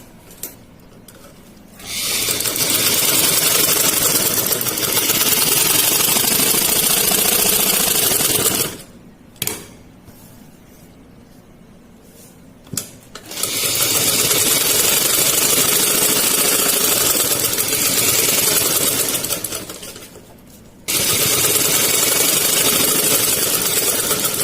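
An electric sewing machine stitching salwar fabric: loud, steady, close mechanical whirring in long continuous runs, each several seconds, broken by short pauses with light handling clicks of the cloth and machine, no speech.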